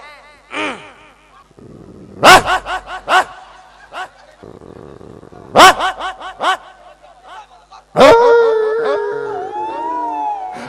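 A person imitates a dog, giving several bursts of barking woofs in quick clusters, mixed with chuckles and laughter nearby.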